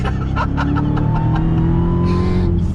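A 2021 Dodge Charger Hellcat Redeye with 797 horsepower launching hard from launch control, its engine roaring loud and close throughout as it climbs through the revs, with a brief high tire chirp near the end.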